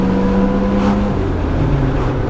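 R31 Nissan Skyline with an RB30 engine, heard close: a deep, steady exhaust burble that drops in pitch as the car eases off.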